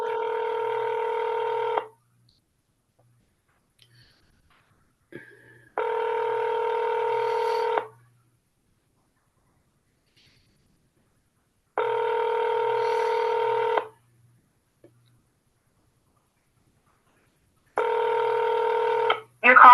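A telephone call being placed, heard as a steady, clean electronic ringing tone that repeats in long pulses about every six seconds with silence between them. A faint low hum sits underneath.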